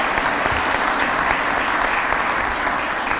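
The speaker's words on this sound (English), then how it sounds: "I'd like to offer them a round of applause as well, and thank you." Audience at a city council meeting applauds steadily and loudly for several seconds, dense clapping filling the room with no voices over it.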